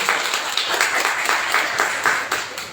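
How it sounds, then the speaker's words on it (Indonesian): Steady applause from an audience welcoming a speaker at a vocational school entrepreneurship webinar, a dense, even wash of clapping that keeps going through the whole stretch at moderate loudness. "Beri tepuk tangan yang meriah untuk Kak Iwan."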